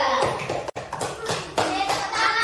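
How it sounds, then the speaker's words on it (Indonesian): Classroom students applauding a student group after its presentation in an Islamic religious education lesson: a short burst of mixed clapping with children's voices over it, briefly cut off and then resuming. "Kita kasih tepuk tangan untuk kelompok 3."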